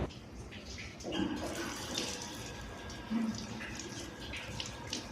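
Zamzam water runs from a tap at a mosque, a steady, close splashing stream with small shifts in flow and a faint background hum.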